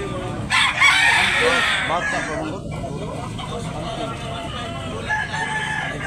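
At a gamefowl farm in Tabunok, Talisay, Cebu, a rooster crows loudly up close, with a drawn-out call at the start, while people talk over the farm's background noise.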